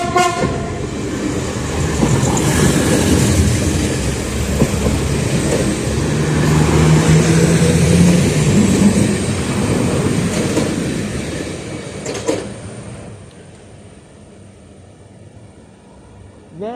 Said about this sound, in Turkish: Evet şu an tren geliyor.